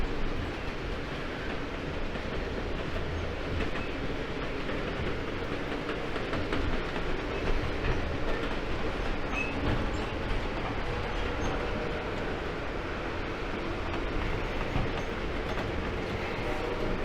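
An Amtrak train rumbles steadily along rough track, its carriage rattling and clattering continuously over the rails in a dense, unbroken roar from inside the car.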